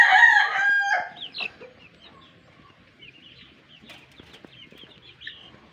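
A crossbreed rooster of Chinese silkie and native chicken stock crows loudly once at the start, then clucks and murmurs softly in a series of short calls, with no talking.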